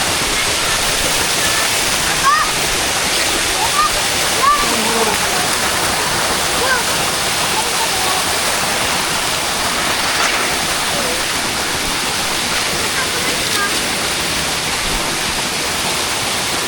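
Rushing river water in the mountains of Mindoro, a loud, dense, continuous roar like a waterfall, steady from start to finish with faint voices under it.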